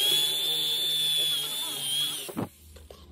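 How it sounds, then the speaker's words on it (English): A power drill bores a hole through a Stihl axe handle, with a loud, steady high whine for about two seconds that then stops abruptly, leaving a few knocks and quiet. "And drill a hole through here"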